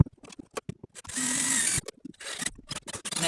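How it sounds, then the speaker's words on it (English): A power drill whirs in a sustained burst between short clicks and clatters, close by, with mechanical tapping before and after the main run. "And now I'm drilling some more."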